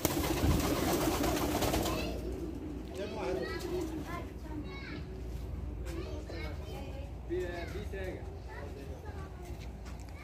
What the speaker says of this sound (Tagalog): ang mga puti na mga kalapati